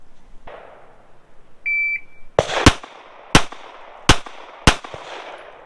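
Pistol shots during a range drill with a shot timer: a short electronic timer beep, then four sharp, loud gunshots spaced roughly evenly, each ringing off briefly into the quiet outdoor background.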